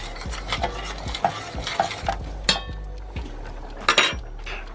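A spoon scrapes and knocks around a pot of rice in a steady stirring rhythm, with soft clinks and a faint sizzle underneath.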